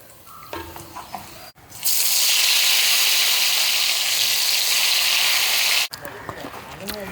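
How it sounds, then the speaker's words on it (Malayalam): A loud, steady sizzle of brinjal slices frying in hot oil starts abruptly and runs for about four seconds, then cuts off, with quieter kitchen sounds before and after. "ഇതുപോലെ എല്ലാം നമുക്കിങ്ങനെ വറുത്തെടുക്കാം."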